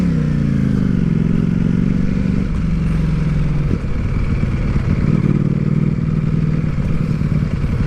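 A Ducati Panigale V4 S sports motorcycle on the road drones loudly and steadily, engine note shifting as it holds speed, with wind and road rumble up close throughout.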